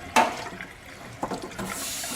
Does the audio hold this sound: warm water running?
yes